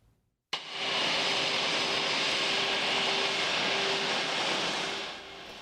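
A jet airliner at Meadows Field airport roars in suddenly after a brief quiet, then holds as a loud, steady broadband rush with a faint engine whine before easing slightly at the end; no voices.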